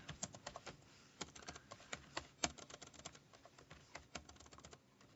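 Rapid clicking keystrokes on a small, cramped Color Computer keyboard, close and fairly quiet, an uneven run of taps with short pauses and one sharper key strike midway.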